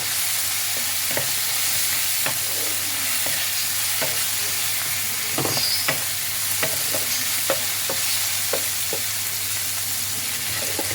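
Spice mix for begun bhorta frying in a pan, a steady close sizzle broken by sharp, irregular taps and scrapes of a spatula stirring it.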